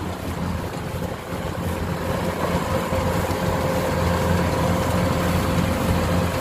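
A Kubota DC-105X combine harvester engine idles in a rural rice-growing village, a steady low droning rumble with a constant hum and wind rushing over the microphone, unbroken throughout.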